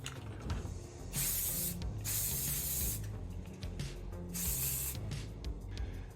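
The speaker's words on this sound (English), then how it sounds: "I am going to spray all of this down" Flat gray primer is sprayed from an aerosol can onto modular tabletop terrain in three long, loud hissing bursts. Quieter gaps between the bursts are filled with low background noise.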